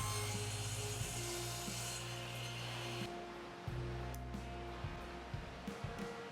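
Table saw blade cutting a shallow groove down the center of a wood piece for a sliding dovetail stop block, loud steady whine and rasp that drops off after about three seconds, then a few shorter bursts as it spins on.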